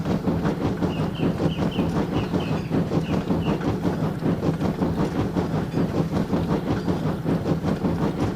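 Goods train running on rails, a steady loud rumble with regular clickety-clack wheel beats and a faint hiss, continuous and close throughout.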